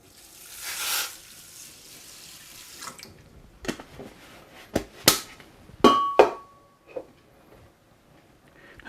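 Water poured into a pot holding rice makes a short rushing gush at the start, followed by scattered metallic clanks and knocks of the pot and lid, close and fairly quiet.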